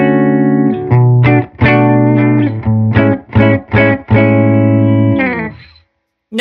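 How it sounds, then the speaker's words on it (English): A Heritage H535 electric guitar fitted with Righteous Sound pickups plays through a Silktone amp. Sustained chords are broken by short, choppy rhythmic strums before a final ringing chord decays into silence. "Silktone amp sounds like this."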